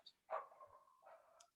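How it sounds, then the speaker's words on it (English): Dog barking in the background of an indoor interview, two faint, distant barks with a brief ringing tail, quiet and otherwise alone. "Apologies if anybody can hear a dog barking in the background."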